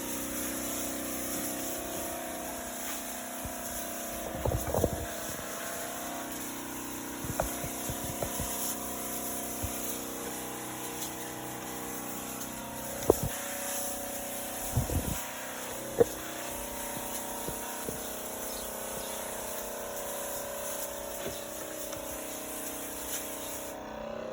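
A Gloria Pro 1200 battery-powered backpack sprayer's pump runs with a faint, steady motor hum throughout, broken by a few soft knocks and handling thumps nearby.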